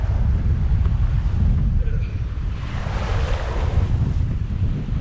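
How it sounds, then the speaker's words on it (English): Strong wind roars across a boat at sea in a rough sea state, with loud low rumbling gusts and waves washing and surging continuously throughout. "The winds have really picked up, and the sea state did as well."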